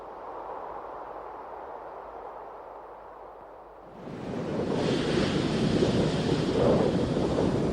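Wind buffets the microphone with a low roar, then at about four seconds a much louder surge of sea waves and gusting wind takes over, sustained and close.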